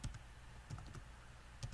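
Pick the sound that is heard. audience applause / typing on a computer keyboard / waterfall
typing on a computer keyboard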